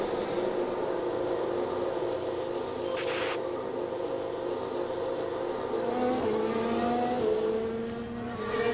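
F1 race cars pull out into the pit lane in the F1 Manager 2022 game, with a continuous engine drone and rising pitch as the cars accelerate, steady and fairly loud.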